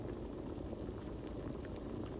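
Water with white long-grain rice boils steadily in a pot for yellow rice with pigeon peas, a dense, even bubbling and hiss that stays constant throughout with no voices.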